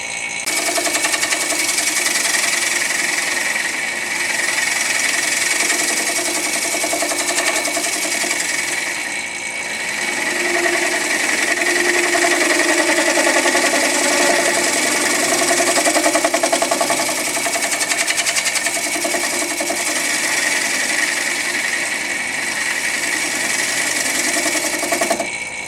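A wood lathe spins a bowl while a 3/8 inch Ellsworth-type gouge cuts into its bottom, giving a steady, loud whirring hum with a continuous scraping hiss that swells and dips slightly through the pass, with no talking.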